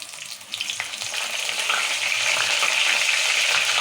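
Curry leaves with cumin, mustard and fenugreek seeds frying in hot oil, a loud, dense sizzle and crackle that builds after the first second and holds steady, close up with no talk.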